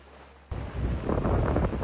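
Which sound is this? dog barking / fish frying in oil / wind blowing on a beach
wind blowing on a beach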